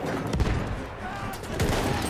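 Gunfire in the video game Battlefield 1: dense bursts of shots with low impact thumps around the start and again near the end, continuous and fairly loud throughout the short stretch.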